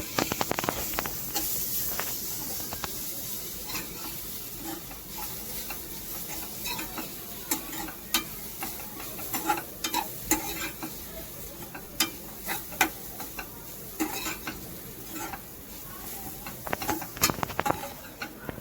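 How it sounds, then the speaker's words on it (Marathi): Grated coconut roasts in ghee in a pan, with a soft steady sizzle under irregular scraping and stirring strokes of a spoon, close and fairly quiet, no talking. "पहिलं खोबरं आणि तूप मस्तपैकी भाजून घेऊया."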